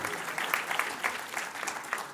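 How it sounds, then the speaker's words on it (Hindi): Audience applauding in a hall during a talk on legal and criminal justice reform; steady, moderately loud clapping from a crowd with scattered sharper claps, no speech. "तो उसके लिए भी ताली बजा दीजिए आप जोरदार।"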